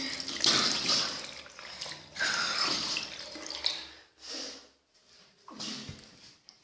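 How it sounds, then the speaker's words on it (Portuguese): Water is splashed onto a face in several quick, close bursts, with dripping and brief pauses between the splashes. "Passar uma água no rosto, credo."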